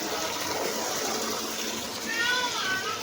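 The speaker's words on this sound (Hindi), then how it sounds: "उर्दी धो के और पानी भर देंगे उसमें" Water pours steadily into a container to wash urad dal in a home kitchen, a continuous rushing splash with a rising gurgle toward the end.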